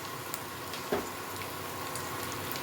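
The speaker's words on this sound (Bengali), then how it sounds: "কুচনো লঙ্কাটা দিয়ে দেবো, একটু ভালো মতো ভেজে নেব" Chopped green chilies sizzle in a hot pan as a steady, close crackling hiss with scattered pops, continuous throughout with no talking.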